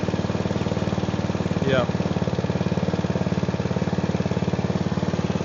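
A small two-stroke engine idles steadily with a fast, even put-put pulse, running on two-stroke fuel and smoking heavily; the drone stays loud and constant throughout while a voice briefly speaks over it.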